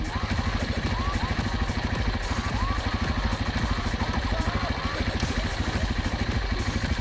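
A quad bike engine idles nearby with a steady, rapid putter and a light mechanical clatter, holding an even pace throughout on a hillside trail.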